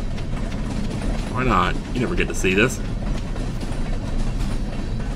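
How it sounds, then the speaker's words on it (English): A train in the video game Stardew Valley rumbles and clatters past with rhythmic mechanical clacking while someone talks over it. "Yeah, let's watch the train."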